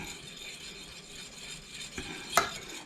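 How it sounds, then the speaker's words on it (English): Golden milk made with turmeric kept at a low simmer in a pot while a spoon stirs it, giving a quiet, steady scraping with one brief, sharper clink near the end and no speech. "And you want to keep stirring it because you don't want it to"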